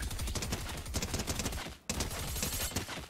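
Rapid, continuous gunfire from a weapon fired at the shimmering Cursed Llama in Fortnite, dense bursts filling the clip with a brief pause near the middle before the shooting resumes.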